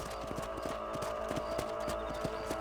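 Horse hooves clip-clop in a steady, even rhythm in the video game Red Dead Redemption, close and clear over a low background hum.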